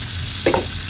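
Cooked rice drops into a hot pan and starts frying, giving a short burst of sizzle and a soft stirring scrape over a steady background frying hiss.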